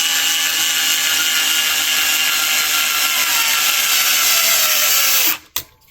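A powered 2.5 mm hex driver runs screws into the wheelie bar of a Losi LMT RC monster truck, a steady high whine held for about five seconds before cutting off, followed by a soft click.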